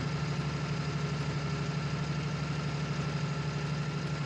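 A tractor engine in the video game Farming Simulator 19 idles at a steady low rumble, constant and close with no change in pace, and no talking.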